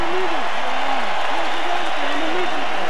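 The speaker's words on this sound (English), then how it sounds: "a round of applause for this gentleman from South Africa who refused to quit" Boxing arena crowd applauding after a heavyweight bout, a continuous broad patter of clapping beneath a ring announcer's amplified voice.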